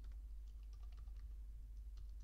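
Light, rapid clicking of computer keyboard keys as code is typed, soft and close over a low steady hum, with irregular bursts of keystrokes.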